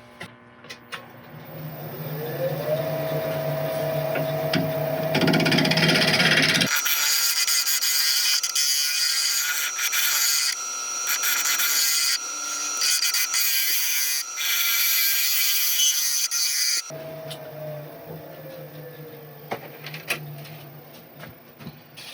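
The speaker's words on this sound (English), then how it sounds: "I don't want to keep on attacking this with the ball gouge and keep on getting some nasty finishes" Ball gouge cutting a glued-up segmented turning of ebony, oak and sapele on a lathe, a loud, sustained harsh scraping roar in the middle, with the lathe's steady motor hum before and after.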